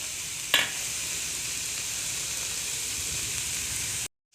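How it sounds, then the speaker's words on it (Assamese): Chopped banana flower and potatoes frying in a pan, a continuous bright sizzle that stays even, with one sharp clink early on, before the sound cuts off abruptly. "এইখিনি আকৌ 5 মিনিট মান ভাজি লম"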